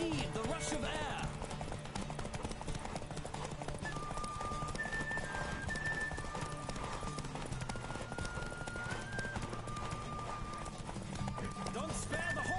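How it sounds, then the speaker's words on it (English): Horse hooves clip-clop at a gallop through a horse race in the Witcher 3: Wild Hunt video game, steady and continuous under game music and ambience, with a whinny and speech over the top. "Don't spare the horse!"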